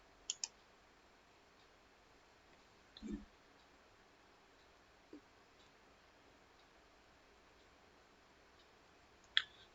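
A computer mouse clicks a few times at a desk, sparse single clicks spread far apart over a quiet, faint room background.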